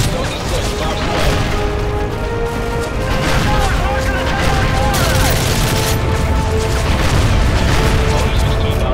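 Bomb run explosions in Call of Duty: Modern Warfare 3, a loud, continuous rumble of booms and crashing impacts with layered mechanical noise, and radio voices talking over the blasts.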